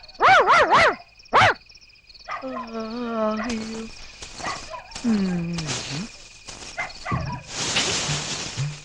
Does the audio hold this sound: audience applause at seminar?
no